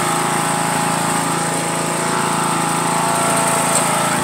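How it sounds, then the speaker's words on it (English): A lawn mower engine drones steadily and loudly throughout, close by and continuous with no talking. "He just passed the lawnmower."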